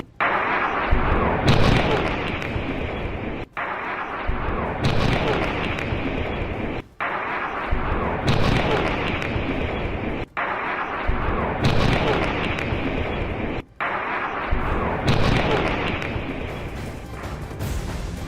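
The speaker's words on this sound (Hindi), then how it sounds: "दुबई में धमाकों की तेज आवाज यहां पर सुनी गई है" Deep, booming blasts in Dubai roll in as long rumbling bursts at regular intervals, loud and dense with sustained low-end thunder between brief gaps.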